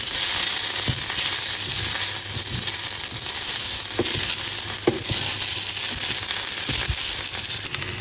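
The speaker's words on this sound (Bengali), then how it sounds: "সাথে এই সবুজ বিনগুলো দিয়ে দিলাম। ভালোভাবে মিশিয়ে নিচ্ছি।" Rice and green beans are stirred in a pot while frying for Sylheti akhni pulao, a loud continuous sizzle with scraping spoon strokes and soft knocks every second or so, close up and without speech.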